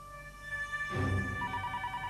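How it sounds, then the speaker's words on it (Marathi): A hotel telephone rings with a bright electronic trill, heard at moderate distance in a quiet room. "हॉटेल मधला फोन वाजला."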